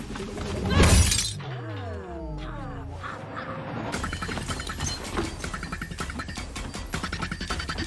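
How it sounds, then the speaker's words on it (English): Glass shatters in a sharp, loud crash near the start, followed by tinkling debris and a busy stretch of clattering noise. "So you broke the glass."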